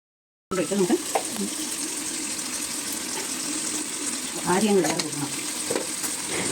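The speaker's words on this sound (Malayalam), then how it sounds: "ഇത് നന്നായിട്ട് ഇളക്കി യോജിപ്പിക്കാം" Washed, cut beef on the bone frying in a pan for Kottayam-style kappa biriyani, sizzling loudly as it is stirred, with scraping strokes and bursts of hissing after a brief silent start.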